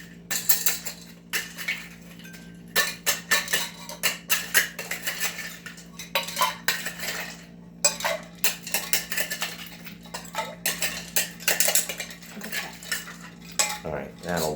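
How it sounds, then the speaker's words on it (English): Ice rattling and clinking against glass as a Manhattan whiskey cocktail is stirred, a steady run of close, bright clatters with short pauses between bursts. "we're going to add some ice and stir it up"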